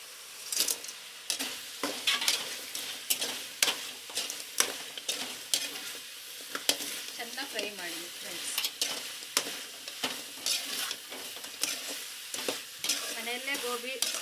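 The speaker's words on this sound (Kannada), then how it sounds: "ಎಲ್ಲ ಫ್ರೈ ಆಗಿ ನೆಕ್ಸ್ಟ್ ಗೋಬಿ ಹಾಕೋಣ" Cauliflower frying in a pan for gobi manchurian, with steady sizzling and repeated close scraping and clinking of a spatula stirring against the pan, busy and continuous throughout.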